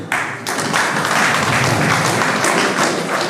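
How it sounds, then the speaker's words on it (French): An audience at a media awards ceremony claps for two radio stations, the national radio and Radio Isanganiro, with dense, loud applause that starts abruptly after a brief pause and carries on steadily throughout. "Il faut les applaudir."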